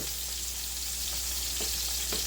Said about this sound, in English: Now that I got her boiling good, I'm gonna turn her down, roll her back.